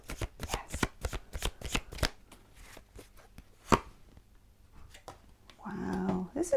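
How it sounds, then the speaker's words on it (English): Love oracle cards are shuffled in a quick run of crisp riffling slaps, then cards are drawn and laid down with lighter flicks and rustles, close and fairly loud; near the end a brief hum or voice-like sound appears. "Let's just flip. Okay, so these are Chuck Spezzano love cards. I'm going to take 3 of these"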